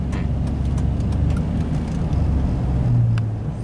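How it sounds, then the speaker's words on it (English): Road traffic streaming past an incident scene, a continuous low rumble of vehicles that swells near the end as one passes close, with no voices. "We're letting the traffic go through"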